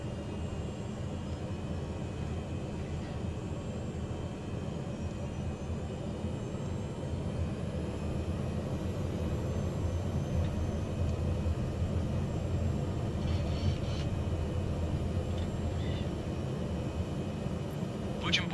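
A Cessna light aircraft idles at a small airport ahead of takeoff, its engine a steady low rumble that holds loud and even throughout.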